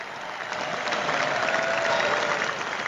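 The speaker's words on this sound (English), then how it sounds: "Big round of applause for them." An audience at a live broadcast show claps in a sustained round of applause, steady and moderately loud, rising slightly after the first half second.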